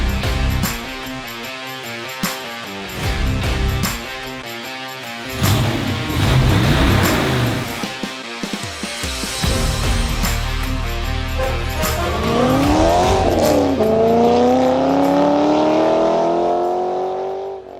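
A 1970 Ford Mustang Boss 302 V8 cranks, catches and idles roughly with sharp throttle blips, then rises into a long, loud rev climbing steadily in pitch, close by.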